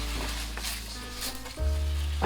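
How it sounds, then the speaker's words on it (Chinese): A wok of stir-fried food sizzles loudly up close, with a steady hiss and a couple of quick scraping tosses near the end, no voices. "最后翻炒几下就可以出锅了"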